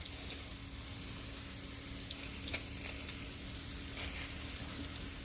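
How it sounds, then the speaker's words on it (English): Onion and garlic fry in a pan with a constant close sizzle and crackle, a faint steady hum underneath, and a few light clicks of a utensil, without talk. "I'm going to supervise the onion, make sure I do not burn them"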